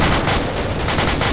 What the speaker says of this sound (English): Incoming mortars.